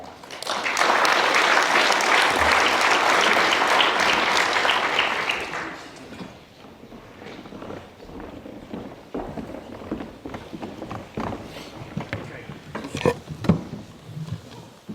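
An audience at a cyber innovation forum applauds to welcome a panel. The clapping is loud and sustained for about five seconds, then fades into scattered footsteps, shuffling and movement.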